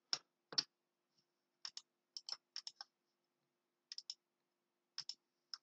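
Sparse, quiet clicks from a computer mouse during CAD modelling in Solidworks come singly and in quick pairs, irregularly spaced across a near-silent room, with no speech.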